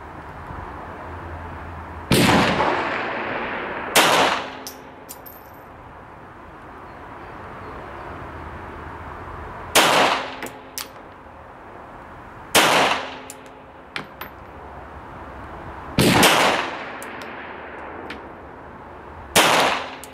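Six sharp pistol shots from a post-WWII Hamburg police pistol, an old European service handgun, spaced irregularly several seconds apart. Each loud crack rings briefly over a quiet outdoor background.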